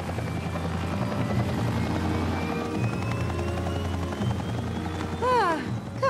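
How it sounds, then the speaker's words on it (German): A helicopter in the video game LEGO Jurassic World: The Legend of Isla Nublar thrums steadily nearby with a rhythmic rotor beat and a thin whine climbing slowly in pitch, ending with a brief sweeping warble. "Danny, wie war der Sicherheitscheck für den Hubschrauber?"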